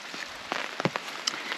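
Light rain falling outdoors on a sheep farm, with scattered close drops tapping on a surface in an irregular patter over a quiet background.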